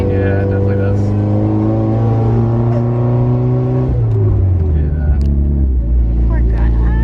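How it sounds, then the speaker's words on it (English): A Mitsubishi Evo with a failing turbo runs with a loud, sustained engine drone and a whining tone that shifts pitch partway through, close and continuous. "It does sound like turbo failure."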